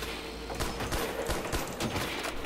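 Rapid bursts of gunfire in Call of Duty: World at War Zombies crackle in quick succession, fairly faint and steady, with sharp repeated shots over a constant background.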